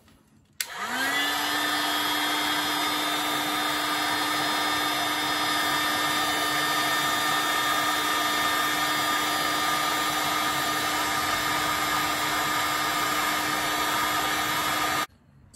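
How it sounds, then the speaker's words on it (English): A hot air gun blasts heat shrink tubing onto radio cable wires, its steady whining fan roar switching on sharply and running loud and unbroken for about fifteen seconds before cutting off. "we just heat that up with the hot air gun and shrink it onto the wires"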